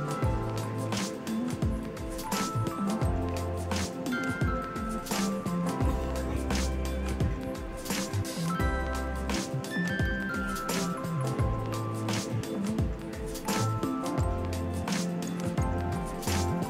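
An onion, garlic, ginger and green chili paste goes into hot oil and is stirred in a pan, with sizzling, clinking and scraping sounds heard close up throughout, no talk.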